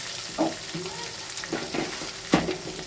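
Turmeric goes into a sizzling tempering for spicy masoor dal, which gives a steady frying hiss. A few distinct spoon scrapes and knocks against the pan punctuate it, and the loudest clink comes near the end.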